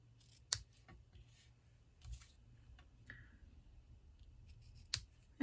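Scissors trimming small pieces of photo paper stamped with nature images, giving a few crisp, close snips spread across a quiet background, with no voices.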